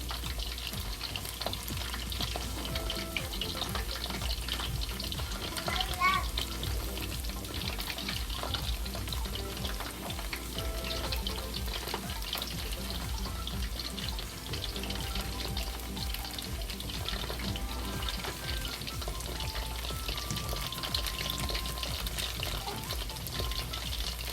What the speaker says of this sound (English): Right now we turn it over to let it fry the outside.